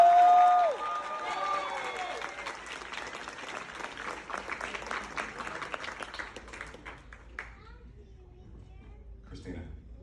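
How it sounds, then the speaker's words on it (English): Wedding guests applaud during a reception speech, a lively burst of clapping mixed with chatter and children's voices that gradually thins and fades toward the end. "For this, you deserve a round of applause"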